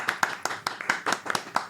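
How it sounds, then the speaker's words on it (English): A small audience at a live podcast recording claps for a guest: a quick, fairly even run of about nine distinct hand claps, close and clear, with no talking over them. "Please give a big round of applause for Belle Rebeiro-Addy."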